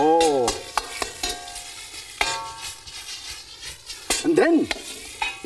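A hot pan hisses and sizzles continuously as food is tossed and stirred, with a few clanks of a utensil against the metal and voices speaking briefly over the cooking.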